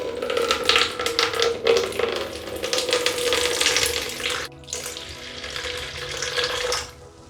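Juice glugging and splashing out of a bottle to leave headspace for homemade alcohol brewing, a continuous close liquid pour with a brief break partway, no voices.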